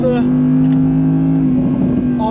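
A loud, steady engine drone from an Audi R8 holds at high revs around 8,700 RPM, heard from inside the cabin, with a voice talking over it throughout.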